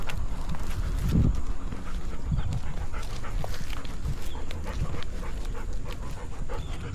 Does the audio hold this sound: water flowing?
no